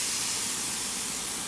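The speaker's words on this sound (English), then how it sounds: "Now I'm going to give them a good spray so that when I flip them, they're not going to stick." Cooking spray is sprayed onto barbecue ribs in a steady, close, continuous hiss that lasts throughout with no pauses and no talking.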